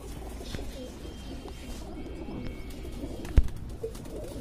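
Pigeons cooing on a Delhi rooftop, low soft coos in the background under a steady outdoor hum, with a sharp knock near the end.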